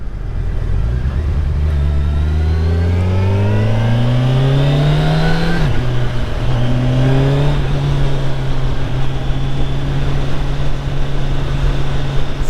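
A 2021 Kawasaki Ninja 1000SX sport bike pulls hard in second gear, its engine note climbing steadily in a loud, close rising whine, dipping briefly at a shift, then holding a strong steady drone.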